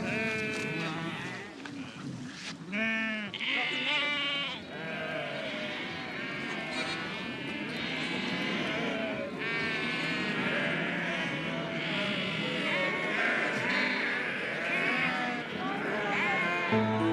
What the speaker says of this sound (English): The goats. No, I want the goats.